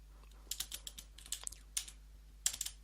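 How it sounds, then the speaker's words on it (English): Fingers typing an aircrack-ng command on a computer keyboard, quick irregular clusters of light key clicks close up in a quiet room. "So I'm just gonna go ahead and type that in."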